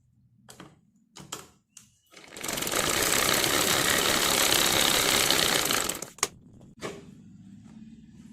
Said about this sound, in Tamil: இந்த கிராஸ் பீஸில் நம்ம மேலே ஒரு ஸ்டிச் போட்டுடலாம்